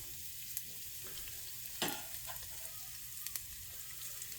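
Garlic fries in a couple of tablespoons of hot oil in a pan, giving an even, close sizzle with a sharp crackle burst as it hits and a few soft taps afterward.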